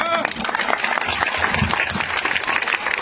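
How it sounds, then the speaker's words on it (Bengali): Crowd clapping at a nighttime election campaign gathering in Jaldhaka, a loud, dense burst of applause with crowd noise and voices mixed in. "আপনাদের জন্য আমার পক্ষ থেকে হাত তালি"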